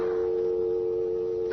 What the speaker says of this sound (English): you'll phone Corey the second I hang up